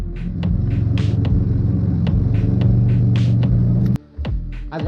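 A twin-engine Mazda MX-3 project car fitted with oversized injectors cranks and struggles to start, a loud, close, rhythmic throbbing rumble with regular clicks that cuts out abruptly, then a short stutter resumes.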